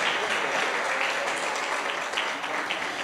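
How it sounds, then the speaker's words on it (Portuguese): Congregation applause during a church service, many hands clapping together in a full, sustained wash that holds steady and fairly loud throughout. "Dá uma salva de palmas a Jesus aí pelos soldados"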